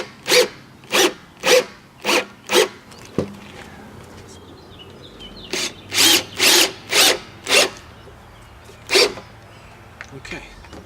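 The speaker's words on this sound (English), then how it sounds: "I'm going to screw it down with some number 8 3/4 inch fasteners." Power drill driving #8 3/4-inch screws around the perimeter of a homemade rain barrel lid: a series of short, loud whirring bursts, five in quick succession, then a pause and several more, each lasting under a second.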